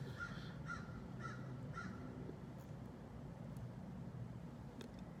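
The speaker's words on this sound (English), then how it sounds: "I sit in my car and I just listen to the birds go at it" Crows cawing back and forth, a run of four evenly spaced harsh caws followed by scattered fainter calls, heard from a parked car with a low traffic rumble underneath.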